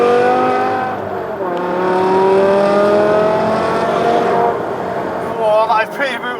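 Modified 550 bhp BMW E60 M5 V10 pulling hard in M mode, its rising howl climbing through the revs loud and close, a gear change cutting in near the end, with someone talking over it.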